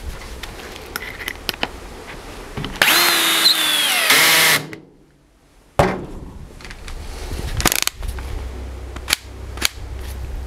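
A yellow and black cordless screwdriver drives black self-tapping screws in a short loud whirring burst, followed by a silent gap, then sharp clicks and knocks, another brief whir and scattered handling taps.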